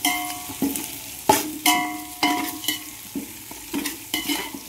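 Onions frying in a pan, stirred now and then, giving a steady soft sizzle broken by repeated sharp scraping strokes of the spoon at a regular rhythm, close and moderately loud with no talking.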